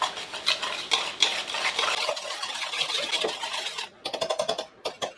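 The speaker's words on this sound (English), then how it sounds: "And I'm going to go ahead and whisk these together." Eggs whisked together in a bowl for lemon blueberry muffins, a rapid rhythmic clicking and swishing of the whisk against the bowl, close and fairly loud, with a faster burst of beats near the end.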